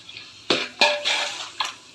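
A spoon clinks and scrapes against a pot while yogurt is stirred into cooked tomato for Palakkad-style dum biryani, in a few sharp separate knocks over a quiet background.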